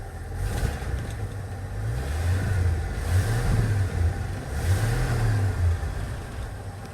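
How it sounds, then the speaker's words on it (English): Engine of a 1974 Ford F-250 truck running close by with a steady low rumble, its pitch slowly rising and falling as the idle settles. "Idling at about 950."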